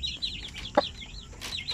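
Native Basilan and Zampen hens cluck close by while a brood of chicks peeps in thin, high, continuous chirps. One louder cluck stands out briefly over the chatter.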